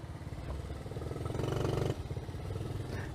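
The small engine of a Honda Trail 90 motorcycle idles and revs close by at a gas station with a rough, pulsing putter, rising briefly in the middle. No clear impact against a pole stands out.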